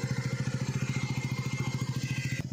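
A motorcycle idles nearby in Dharamshala, its engine giving a steady, rapid thumping pulse that runs throughout before a brief shift near the end, with no talk.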